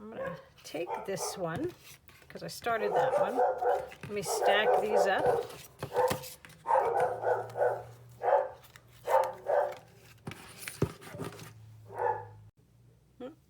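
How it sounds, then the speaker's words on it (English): Several dogs bark and yip in short bursts in the background of a room while a person talks nearby, with paper shuffling and soft handling noises. "Sorry about the dogs there."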